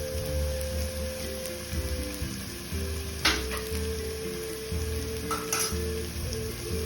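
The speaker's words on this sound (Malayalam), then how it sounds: "പച്ചമുളക് ഇടുന്നുണ്ട്." Green chilies sizzling as they fry in a pan for a Kerala-style fish head curry, a steady close crackle with occasional sharper pops and faint stirring noises.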